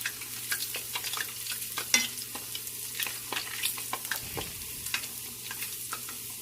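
Gulab jamun fry in a pan with a soft, continuous sizzle while being stirred, the spoon's repeated light scrapes and clicks rising over the bubbling oil at close range.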